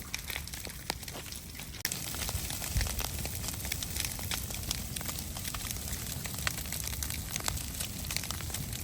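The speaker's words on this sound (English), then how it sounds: "It's starting to burn now. Finally drying out." An outdoor site preparation fire for reforestation, catching as the debris dries out, gives a steady broadband crackling and rustling hiss with scattered sharp pops, fairly close and continuous with no voices.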